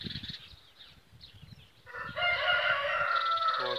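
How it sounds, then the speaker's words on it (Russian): Roosters crow loudly nearby, a long drawn-out call rising in the second half after some softer clucking and low rustling at the start. "Петухи кукурикают."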